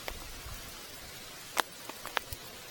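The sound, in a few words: raindrops falling off a tree onto a coat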